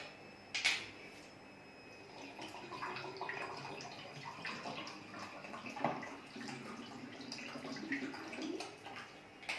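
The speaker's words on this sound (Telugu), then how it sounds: "ఇలా జార్ నిండా వాటర్ తీసుకున్నాం కదా" Quiet splashing and trickling of water being poured into a container, with a few clunks and knocks around it.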